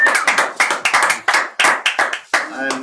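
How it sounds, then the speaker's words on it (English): Hands clap in a short round for a frame drum guest, about a dozen sharp, close claps in a loose, uneven rhythm, fading into a brief tone at the end. "Okay, so Yousif, we have a big applause for you."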